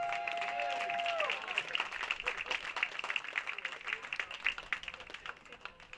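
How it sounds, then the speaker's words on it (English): Crowd applause and cheering for the starting lineups at a Petaluma Express vs Sonoma Stompers baseball game, sustained clapping from a stadium crowd with a brief tonal call at the start and the crowd noise tapering gradually. "Let's have a big round of applause for our starting lineups"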